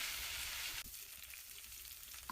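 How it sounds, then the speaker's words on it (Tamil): Half a kilo of washed chicken drops into hot oil and masala for a Chettinad chicken gravy, and a soft, steady sizzle hisses on quietly after the addition. "அந்த சிக்கனை தான் இப்போ நம்ம ஆட் பண்ண போகிறோம்."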